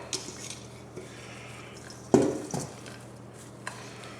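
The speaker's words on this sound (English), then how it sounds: "So now we're going to add our hash brown mixture to the pan and spread that out." Hash brown mixture being spread in a casserole pan, heard as soft scraping and squishing broken by a few clinks of utensil against the dish, close and fairly quiet.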